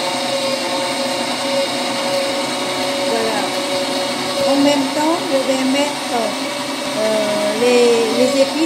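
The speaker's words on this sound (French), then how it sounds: "je vais utiliser de la machine comme ça pour faire hacher." An electric food chopper runs steadily, mincing beef with black pepper and spices for Vietnamese beef sausage wrapped in banana leaves; a continuous close whirring motor drone rises slightly in pitch and strain as the load shifts.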